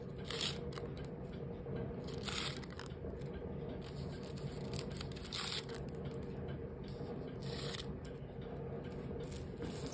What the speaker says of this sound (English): So you could cut this art, bleeding art tissue in any shape you want to.